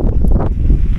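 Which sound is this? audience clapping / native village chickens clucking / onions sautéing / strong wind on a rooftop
strong wind on a rooftop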